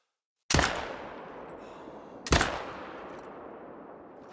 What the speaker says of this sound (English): that follow-up shot was absolutely incredible